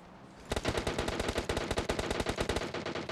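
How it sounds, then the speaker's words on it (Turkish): Rapid automatic gunfire from below in PUBG Mobile, a dense run of sharp, evenly spaced shots starting after a short quiet lead-in and continuing loud and steady to the end, with no talk. "Aşağıdan sıkan var."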